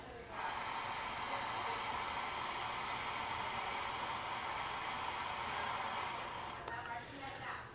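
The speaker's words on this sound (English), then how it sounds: "I'm just going to blow as long and as hard as I can" A person blows hard and steadily into a Micro CO breath meter, a loud, close, continuous breathy rush lasting about six seconds before it tapers off.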